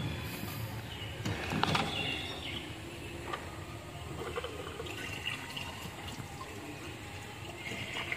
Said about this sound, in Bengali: একটুখানি জল দেবো।